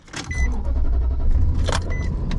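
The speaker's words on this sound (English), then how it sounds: "Well, my truck started at least." Pickup truck engine cranking and catching near the microphone, a low rumble building within the first half second and settling into a steady loud idle, with brief mechanical whirs on top.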